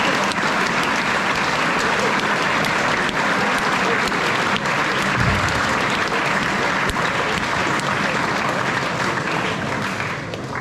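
Loud, continuous applause from a full student body at a New Zealand high school assembly, a thick roar of clapping held steady for several seconds, with scattered voices mixed in, tapering slightly at the end.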